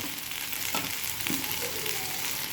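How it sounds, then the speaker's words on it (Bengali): Fried bitter gourd and beans go into a hot pan of sukto and sizzle steadily. A bright, continuous frying hiss carries a couple of brief stirring scrapes, with no talk. "এবার আমি এখানে ভেজে রাখা উচ্ছে আর বিনসটা দিয়ে দেবো"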